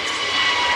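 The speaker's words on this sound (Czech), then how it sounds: "A už je tady, dámy a pánové, skutečně přistání na padák. Strategický bombardér B-52 Stratofortress." Loud, steady jet roar of a B-52 Stratofortress strategic bomber landing with a drag parachute at an air show, a broad continuous rush with no voices.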